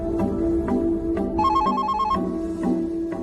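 A landline telephone rings indoors in a steady repeating electronic trill, clear and moderately close, over faint background sound.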